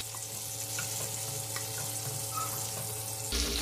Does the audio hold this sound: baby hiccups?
no